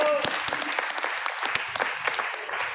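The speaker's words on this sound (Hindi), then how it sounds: "एक बार अपने लिए जोरदार वाली ताली बजा दीजिए" A crowd at a business gathering claps heartily on request, a loud, continuous burst of applause with a few sharp individual claps and faint voices underneath.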